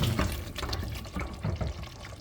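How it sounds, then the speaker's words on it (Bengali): A small amount of water is poured into a pan of braised chicken, giving close, uneven splashing and trickling bursts that last about two seconds. "আমি সিদ্ধ হইতে সামান্য একটু পানি দিব"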